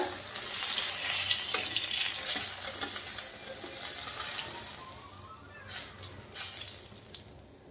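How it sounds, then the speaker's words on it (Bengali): Lalu fish fries in hot oil, a steady dense sizzle that fades slightly midway, with a few brief louder bursts of crackle and spatter near the end; no voices. "মাছটা হয়ে গেছে সুন্দর করে ভাজা"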